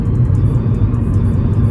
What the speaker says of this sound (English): anything above 30 miles per hour, the car had a really loud hum into it